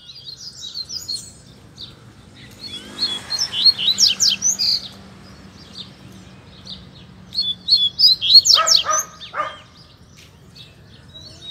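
A blue-billed seedeater sings two bright bursts of quick chirping notes, separated by a pause, over a soft low hum.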